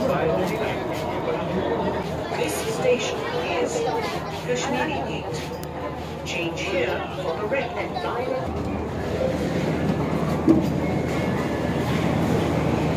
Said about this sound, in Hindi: अभी हमारी मेट्रो ने फिर से रफ्तार पकड़ ली है